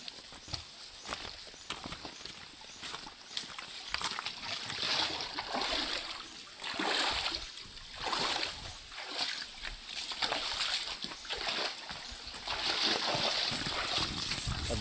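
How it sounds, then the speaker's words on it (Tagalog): Water splashes and sloshes in a small stream as someone wades or walks through it, with rushing wash and intermittent footfall-like splashes, fairly close, and voices speak over it at times. "Sapa lang yan. Pero may tubig."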